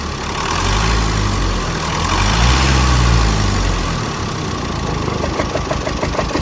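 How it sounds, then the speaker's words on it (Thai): A Chevrolet Colorado Z71 engine with an internal knocking fault runs loud and close, a steady mechanical drone with a rhythmic tapping that grows more distinct toward the end. "อันนี้สตาร์ทรันไว้สักพักหนึ่งนะครับ ก็เริ่มมีเสียง อยู่ด้านในนะ"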